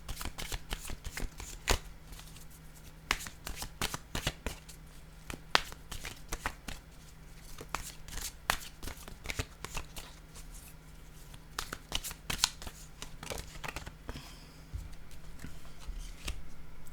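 Oracle cards being shuffled by hand, a long run of close, crisp riffling flicks and slaps in an irregular rhythm over a quiet background, no talk.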